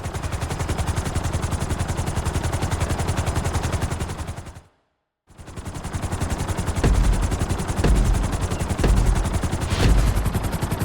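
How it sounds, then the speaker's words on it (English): Helicopter in the video game Grand Theft Auto V during a flight school lesson, a loud continuous rapid rotor chop that cuts out briefly midway, then resumes with heavier thumping pulses. "we're gonna put you in a helicopter for this lesson"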